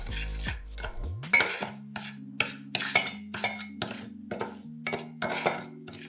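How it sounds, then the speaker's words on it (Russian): A spoon stirs dry sugar and cocoa in a saucepan, giving close, rhythmic metallic scraping and clinking strokes in a steady series of bursts with no talking. "В сотейник насыпаем 4 столовых ложки сахара и 3 столовых ложки какао. Все перемешиваем в сухом виде,"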